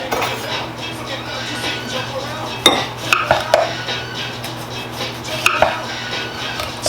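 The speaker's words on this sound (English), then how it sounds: "we're going to cut these probably about a ½ inch thickness" A knife slices green tomatoes into half-inch rounds on a cutting board, giving a few sharp, close taps and clicks over a low, steady background hum.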